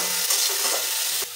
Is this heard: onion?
yes